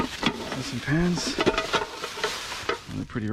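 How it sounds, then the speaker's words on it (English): Pans being picked through and handled in an outdoor rubbish pile, giving scattered metallic clatters and knocks close to the microphone, with a voice talking at moments. "There's some pans."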